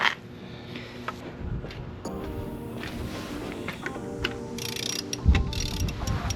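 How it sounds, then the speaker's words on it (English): A ratchet turns a Subaru STI engine over by hand on a 22mm bolt while a frayed belt is stuck in a pulley: quiet repeated clicking and mechanical creaks, close and low in level. "So what we're going to do is turn over this engine by hand to try and get that frayed belt out of the way"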